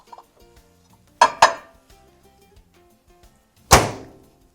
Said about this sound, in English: I'm actually going to set my glass of chocolate on a plate so it won't be hot when I take it out